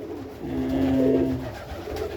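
Homing pigeons coo softly with a low, rolling call rising and fading over a steady background hum; no talking.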